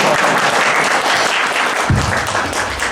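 Steady applause from the audience at a V-Drums clinic, a dense, continuous patter of many hands that fills the room at close range, with a low thump near the end.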